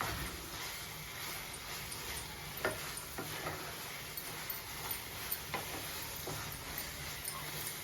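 Bread slices frying in a pan for double ka meetha, a steady low sizzle of hot fat with scattered soft ticks and taps, continuous and fairly quiet throughout.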